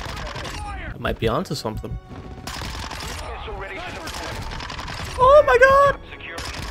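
Gunfire in a Modern Warfare 2 Ground War match, loud automatic bursts and scattered shots close by under excited player talk.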